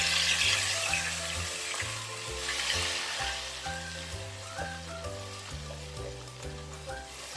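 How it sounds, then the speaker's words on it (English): Masala frying in a pressure cooker for mutton pulao, a steady hiss of sizzling under a loud repeating low tonal pattern of music, with no talk. "fry the masala nicely and then cover and cook"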